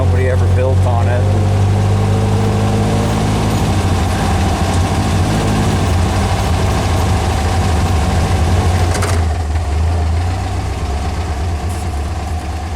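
A vehicle engine runs steadily in first gear along a tree-lined dirt driveway, a loud continuous low rumble throughout with a slight shift in tone near the end.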